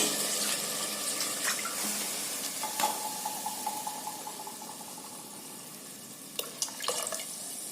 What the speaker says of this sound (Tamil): 1/2 டம்ளர் தண்ணி சேர்த்துக்கோங்க.